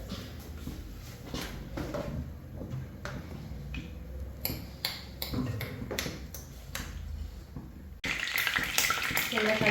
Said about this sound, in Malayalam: അതുകൊണ്ട് ഞാൻ കടുകിടാൻ പോവാണ് ബീഫ് കറിക്കകത്ത്